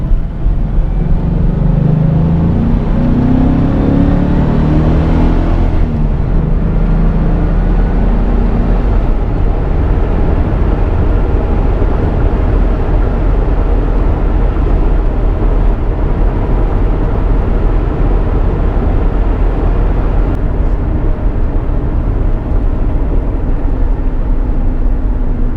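A Chevrolet Silverado extended cab truck with a 5-speed manual gearbox and a new remote shifter accelerates hard and shifts from second to third at 5,000 rpm. A loud, steady engine roar fills the whole stretch, and its tone changes partway through.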